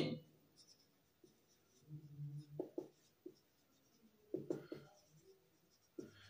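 Pen writing on paper while working a maths test-paper problem, scattered short scratchy strokes in irregular bursts, close and quiet, with a soft voice heard now and then.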